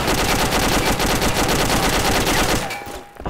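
Sustained machine gun fire in ArmA 2 with the ACE mod, a dense unbroken rattle of rapid shots held for several seconds before cutting off abruptly, followed by a faint tail.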